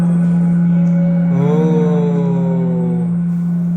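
At a national science centre exhibit, a loud, steady tone set to 170 hertz hums continuously, with a fainter wavering sound sweeping over it midway.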